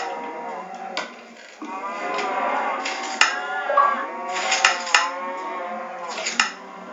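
Cattle mooing in a farm video game that also has lambs and other livestock, with several overlapping drawn-out moos and a few short clicks. A quiet voice can be heard underneath.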